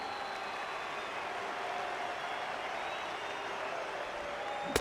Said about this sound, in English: sent this crowd into hysterics